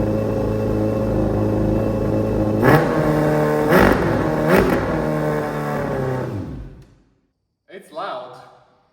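A Yamaha 600 motorcycle, started for the first time in three years and leaking fuel from its carburetor, idles loud and rough with three sharp revs before cutting out. A short burst of sound follows the silence.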